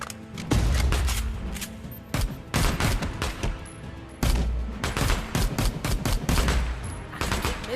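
Rapid gunshots ring out in the VR game Battle Glide, loud sharp bursts firing in quick repeated volleys with brief pauses between them, close and punchy throughout.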